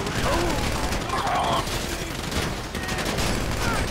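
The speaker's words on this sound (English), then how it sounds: "You hear that gunfire?" Dense gunfire from a Grand Theft Auto V shootout, a continuous crackling barrage of rapid shots heard at a steady level, with faint voices now and then underneath.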